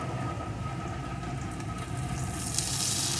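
Chopped tomato goes into a pan of frying onions, and a steady low sizzle swells into a louder, brighter hiss near the end.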